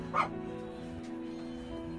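A household's dogs give one short yip near the start, then only a steady low hum continues, with no talking.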